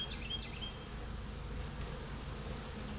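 Honeybees being poured into a hive box, a steady close buzzing drone of many insects, continuous and even with no talk.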